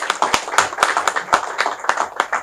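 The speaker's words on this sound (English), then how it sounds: "I think you should join me in clapping for him for that" An audience claps at a speech honouring Aliko Dangote for his refinery in Nigeria, the sharp hand claps arriving in uneven, scattered bursts rather than a dense, sustained ovation.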